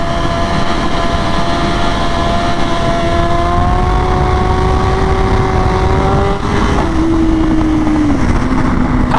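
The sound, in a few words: motorcycle engine while riding wheelies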